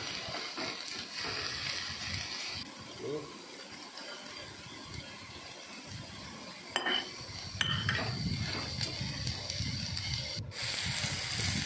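Chopped taro leaves dry-roast with a little salt in a pan without oil, making quiet stirring scrapes, soft clinks of a utensil against the pan and a faint sizzle, with a few sharper knocks near the end.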